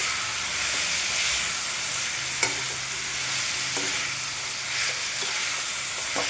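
Eggplant pieces frying in a pan with tomatoes, giving a steady hissing sizzle with occasional spoon knocks and stirring scrapes, close and continuous with no talk.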